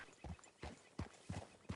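Horse hooves clip-clop at a steady walking rhythm in Red Dead Redemption 2, five evenly spaced, fairly close thuds with no talking.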